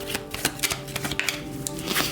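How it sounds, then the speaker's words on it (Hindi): Tarot cards being shuffled by hand, a rapid crisp riffle of papery flicks and slaps, close and fairly loud, alone without any talk. "शफल कर लेते हैं कार्ड्स को ऑप्शन 1 के लिए"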